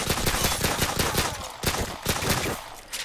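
Rapid gunfire from a Call of Duty: Modern Warfare 2 PC gameplay scene, with dense overlapping shots that stay loud throughout and thin out briefly near the end.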